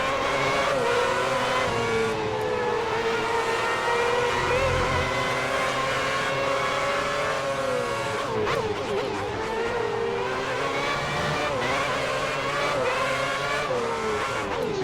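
Formula 1 cars racing at the 2010 Hungarian Grand Prix, a continuous loud high-revving engine wail with pitch sweeps through gear changes and corners, one car close, others overlapping.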